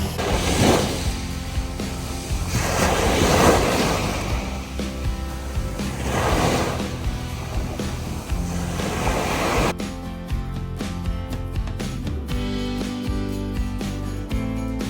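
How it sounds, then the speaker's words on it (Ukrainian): Sea waves on the Costa Brava coast at Blanes, Spain, roll in as slow, surging washes of surf roughly every three seconds for about ten seconds, then give way to a different, more tonal sound. "Море завжди було прекрасним."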